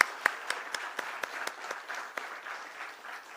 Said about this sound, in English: So please join me in having a thunderous round of applause for GNG Electronics team on this remarkable achievement.